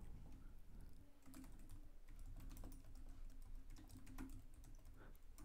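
Computer keyboard typing heard as a quiet, steady run of irregular key clicks over low background hum, with no talking.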